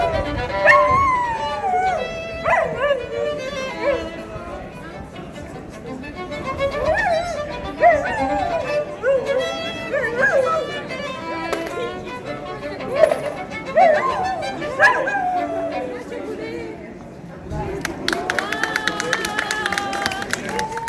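A street performer's dog in busy Plovdiv yips, barks and howls in drawn-out, wavering cries over several seconds, with a crowd murmuring around it and voices nearby.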